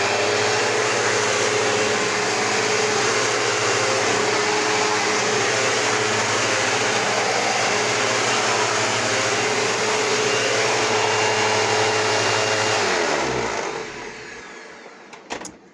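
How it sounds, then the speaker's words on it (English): Steady, loud motor whine of clean air and direct air vacuum cleaners running continuously with a constant hum, cutting off abruptly near the end and winding down to quiet. "Why consider this to be a vacuum video if I don't even run these?"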